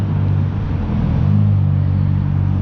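A Mitsubishi Lancer Evo Wagon drives past on a Tokyo street, its engine giving a short, low rumble that rises slightly in pitch as it goes by, heard close and fairly loud.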